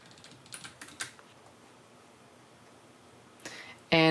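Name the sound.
typing on a computer keyboard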